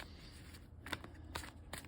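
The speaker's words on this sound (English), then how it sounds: "A few more shuffles, see if anything comes out." Crisp riffling bursts of a card deck being shuffled, a few quick ruffles close by with soft rustling between them.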